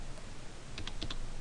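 Keys clack on a computer keyboard as a date is typed into a PDF form, a short burst of four or five crisp clicks heard close against a steady background hiss.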